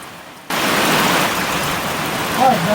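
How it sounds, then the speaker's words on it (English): Rain comes down outdoors at a homestead sawmill, a steady broadband hiss that starts suddenly and holds at an even, fairly loud level throughout. "the rain is really starting to come down"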